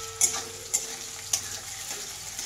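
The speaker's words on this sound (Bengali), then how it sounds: "এই যে একটা কাটা পেঁয়াজ, এটাকে ভালো করে আমি লাল লাল করে ভাজবো।" Chopped onion frying in hot oil for a chicken dish, a steady low sizzle with a few sharp stirring scrapes against the pan, close by and fairly quiet, no talking.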